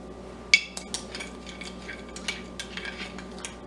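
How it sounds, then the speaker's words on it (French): A spoon works through a brown sugar mixture in a bowl, giving light clinks and scrapes in an uneven rhythm, close and fairly quiet, with one sharper tap near the start. "On brasse pour que ça soit bien mélangé."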